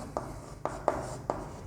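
A teacher writes on a board in a Hindi-language classroom lesson: five short, separate scratchy strokes, close and quiet, with pauses between them and no speech.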